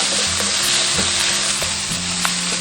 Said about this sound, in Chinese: 加入干辣椒跟花椒，半勺豆瓣酱。 然后炒出红油